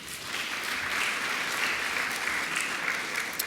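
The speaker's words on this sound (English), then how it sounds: "Round of applause" An audience at the 2017 LDTV Awards ceremony claps in a round of applause, a steady wash of many hands heard somewhat faint and distant, sustained evenly without pauses.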